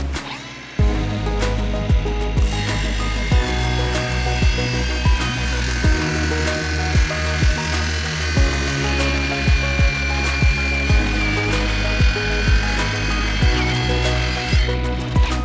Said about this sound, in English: We just need to cut down the edges as well, so I'll probably do that right now